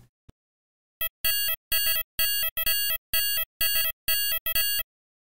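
Synthesized hi-hat made with the Thor synth in Reason, a crisp bright pattern of short metallic hits and ticks in a steady repeating groove, playing alone after a brief pause.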